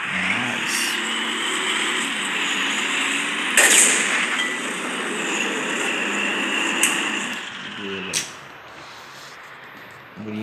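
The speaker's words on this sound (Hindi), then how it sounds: "टैंक चलाएंगे अब।" Tank engine driving in the World War Heroes game, a steady mechanical rumble running throughout with a few sharp bursts that may be gunfire, then dropping off near the end.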